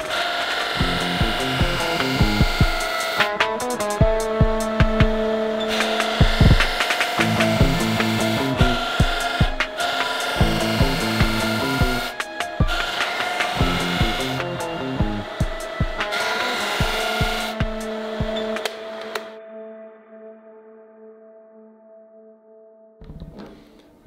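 A handmade 13 cm kitchen knife being given its final polish on a ventilated buffing wheel, a steady whirring grind broken by repeated short passes and pauses, before the motor spins down and fades at the end.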